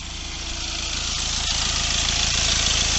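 Kia Venga 1.4 CRDi diesel engine with a black smoke fault, idling close by with a steady, slightly knocking diesel rumble that builds gently and stays even, with a couple of faint clicks.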